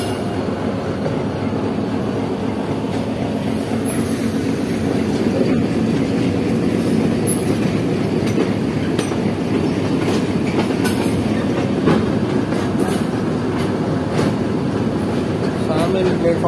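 Train passing close by at Rawalpindi railway station, a loud steady rumble with rhythmic clickety-clack of wheels and faint wheel squeal, continuous throughout with some distant talk in the background.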